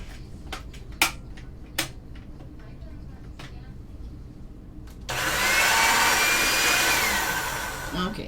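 A thin piece of polymer clay is fed through a clay conditioning machine on a very thin setting, giving a loud, steady broadband whirring hum for about three seconds after a few light clicks and taps.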